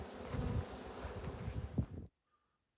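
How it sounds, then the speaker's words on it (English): Honey bees swarming around hives while heather honey supers are taken off, a dense steady buzz close to the microphone that cuts off abruptly near the end, with some wind noise. "The bees are all over. They're desperately trying to get that honey back."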